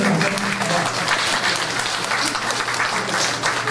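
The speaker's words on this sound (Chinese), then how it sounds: "我们也给李登盛院长一个热烈掌声" Warm, sustained applause from a seated audience at an art association ceremony and book launch, a dense continuous clatter of many hands filling the room at an even level throughout.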